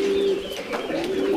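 A male homer pigeon coos on a poultry and pet farm in Thanjavur, a single low, throaty, rolling call heard close and clear with no talk.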